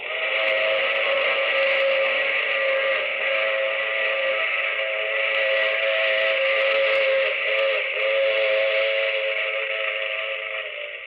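A steam train whistle blows long and loud as a sound effect in a radio drama, a steady sustained tone holding for about eleven seconds over the rumble of the train, with no voices.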